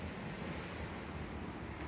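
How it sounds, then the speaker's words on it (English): Sea surf and wind by the shore at Cassis, a small village in the south of France, forming a steady, unbroken wash of noise with wind rumbling on the microphone throughout. "And by the sea in this pretty little village called Cassis in the south of France."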